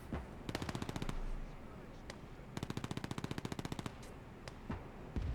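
Rapid machine-gun bursts from the World War II strategy game Gates of Hell: Ostfront fire in two long rattling volleys, with single shots between them over a steady battle background.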